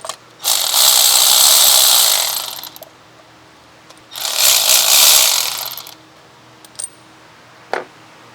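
Ratchet wrench removing spark plugs from a 2014 Mazda CX-5 engine, two long bursts of rapid clicking ratcheting up close, each about two seconds, followed by a few sharp metallic clicks and taps.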